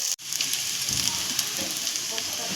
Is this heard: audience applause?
no